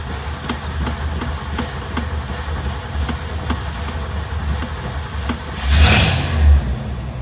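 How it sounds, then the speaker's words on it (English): A Ford Bronco that has sat for a week starts cold. A steady, rhythmic low chugging runs throughout, then a louder, brief surge comes near the end. "I haven't started it in probably a week, so this will be a cold start."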